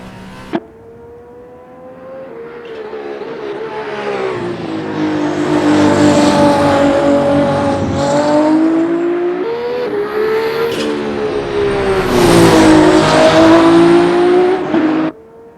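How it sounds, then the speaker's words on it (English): A VRC Arden V24 hypercar with a V6 Mechachrome engine in Assetto Corsa, heard from TV-camera views: a loud, sustained engine note rising and falling through gear changes, building in volume near the end with no voices. "for a V6 Mechachrome engine, those engine sounds are absolutely beautiful"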